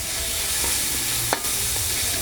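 Ingredients sauté in a hot pan with a steady sizzle, tomatoes going in with pepper and salt, and a brief scrape of stirring partway through; no talking.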